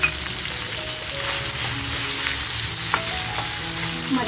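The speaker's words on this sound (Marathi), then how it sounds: "आता बघा जो आपण मसाला तयार करून घेतलाय तो छान असा ह्याच्याबरोबर फ्राय करून घ्यायचा आहे" Cooked mutton frying with coarse kharda masala, giving a steady, dense sizzle and crackle throughout with faint stirring, close by and with no talking.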